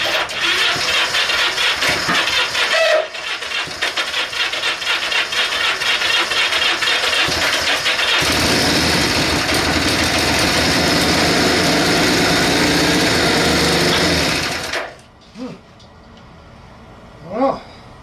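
A Honda Benly motorcycle engine cranks over and fires, then runs and idles roughly on choke, loud and close with a steady rumble before cutting out near the end.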